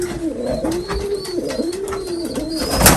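English Trumpeter pigeons coo in a loft, a rhythmic series of soft rolling coos repeating about every half second, close and steady, with faint chirps above.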